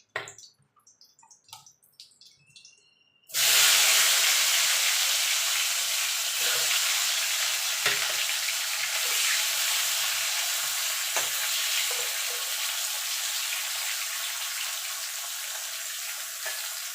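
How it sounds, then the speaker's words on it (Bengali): Slices of ash gourd fry in hot oil. A few faint kitchen clinks come first, then a loud, steady, close sizzle starts abruptly and holds without a break to the end. "এইভাবে সব চাল কুমড়োগুলো আমি ভেজে নেবো।"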